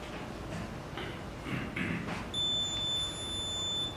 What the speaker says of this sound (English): That long beep tells the officer that the camera has now stopped recording.